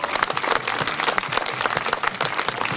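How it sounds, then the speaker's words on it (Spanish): A crowd at a quinceañera event claps for the chambelanes, a short burst of dense, fairly close applause with individual claps standing out. "Un aplauso para los chambelanes."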